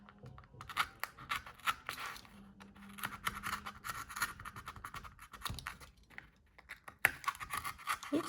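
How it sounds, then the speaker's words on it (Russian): Scissors cutting carefully through cardboard pieces for a handmade Christmas house decoration, with a steady run of close scraping snips and crunches. "И аккуратно все это вырезаю."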